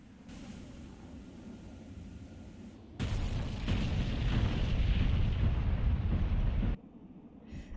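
Carpet-bombing blasts from a Mirage 2000C in the DCS flight simulator: a loud, sustained rumbling barrage of overlapping explosions erupts after a quieter engine drone, rolls on for nearly four seconds, then cuts back to the drone.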